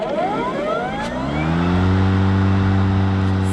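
A battery-powered EGO lawn mower, a 2020 model, running steadily and loudly up close, its motor whine rising at the start and then holding a constant tone without talk.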